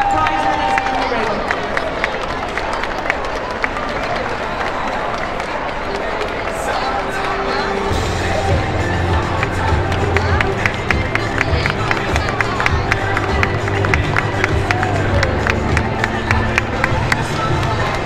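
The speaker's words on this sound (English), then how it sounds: "Big round of applause for all our competitors." An audience applauds dog obedience competitors at a Kennel Club GC Special Pre-Beginners final: steady crowd clapping and hubbub fill the room, thickening into fuller, louder applause about halfway through.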